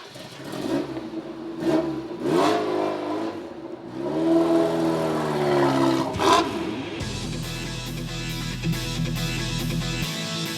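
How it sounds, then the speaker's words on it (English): A Lotus Esprit sports car engine roars and revs up, rising and settling, then holds a steady loud drone near the end, close and dominant with no talk over it. "This is a Lotus."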